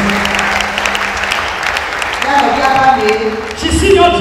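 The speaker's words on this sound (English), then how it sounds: "Are you clapping for Jesus Christ?" Clapping from a church congregation rings out through the clip, fairly loud and steady, with a voice and some singing or humming tones rising over it in the second half.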